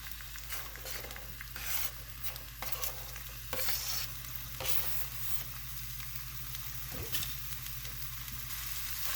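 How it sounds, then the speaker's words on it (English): Garlic, onion and broccoli fry in a skillet with a steady sizzle and occasional stirring scrapes, close and continuous with no talking. "you basically just want to cook these vegetables until they're soft"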